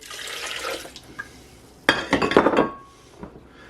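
Water pours into a blender for a chickpea-flour vegan frittata, a brief splashing burst with glassy clinks following a softer trickle, close and alone with no talk.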